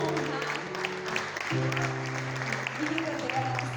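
A church congregation at a conference session applauds steadily, a continuous wash of clapping with voices speaking over it throughout.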